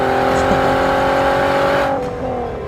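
A Volkswagen Golf R32 six-cylinder engine revs high and steady with a smooth, sustained howl, then the pitch drops as the revs fall near the end.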